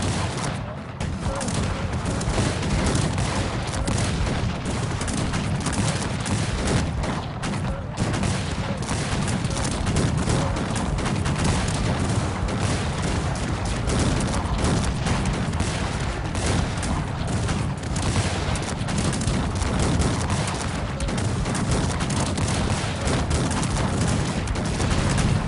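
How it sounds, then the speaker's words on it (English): Cannon and gunfire in a Cossacks 3 video game battle: dense, continuous volleys of musket fire and booming artillery that roll on without pause for the whole stretch, loud and crowded, with no clear talk over it. "cannons went inside the enemy troops"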